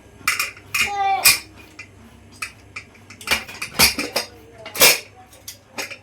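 A metal pressure cooker lid is worked open on a home kitchen stove while tomatoes cook for a Mandya-style upsaaru, giving several sharp metallic clinks and clanks, with a brief rising scrape early on and quiet gaps between the knocks.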